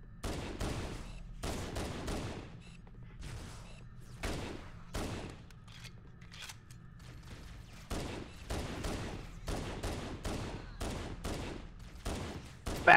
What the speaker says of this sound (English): Oh, shit, who's shooting me?